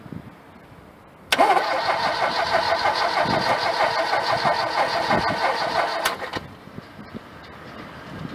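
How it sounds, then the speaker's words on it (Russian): VAZ 2101 car with a weak, discharged battery, its engine turned over and started once, running loud and steady for about five seconds before cutting back to quiet. "Так, сейчас попробуем завести так."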